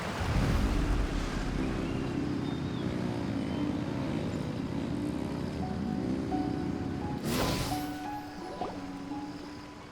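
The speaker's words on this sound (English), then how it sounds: "Rev the engines!" Boat engines revving in Genshin Impact, a continuous low rumble with wind and water noise, shifting tones and a sharp burst near the end, with no talking.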